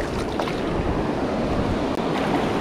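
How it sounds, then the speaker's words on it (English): Ocean waves washing near a fishing spot where a caught fish is being released back into the water, a steady close rush of surf and breaking water with wind. "That wave will take you."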